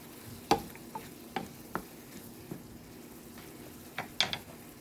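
Lamb testicles frying in a pan that is shaken now and then, a low sizzle under a series of sharp metallic knocks and rattles spaced irregularly, close and fairly quiet with no speech.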